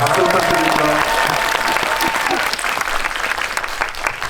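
A theatre audience at a film screening talk event applauds loudly and continuously, dense clapping close at first, then thinning and softening toward the end.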